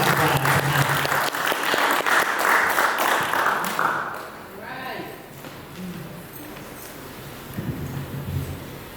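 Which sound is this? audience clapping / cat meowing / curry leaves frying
audience clapping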